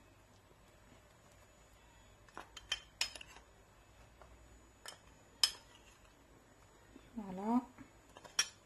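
A sauce for a lamb shank dish is stirred in a pan, with scattered sharp clinks and scrapes of metal utensils against cookware, separated by quiet pauses, and a voice speaks briefly.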